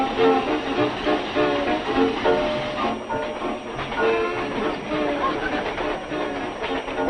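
A train rumbling by with rhythmic clatter and a whistle-like tone, loud and close, with some voices mixed in.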